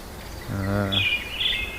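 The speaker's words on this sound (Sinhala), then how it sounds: "කුරුල්ලන්ගේ සද්ද විතරයි උදේම." Birds sing in the morning at a campsite near Verona: a short, low call gives way to bright, high chirps, fairly close and clear against quiet surroundings.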